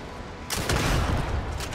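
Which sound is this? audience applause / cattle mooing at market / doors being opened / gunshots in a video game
gunshots in a video game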